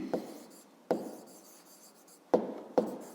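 A pen writes an answer on paper, heard as a few short scratching strokes, each starting with a sharp tap and trailing off, close and fairly quiet, with no talking.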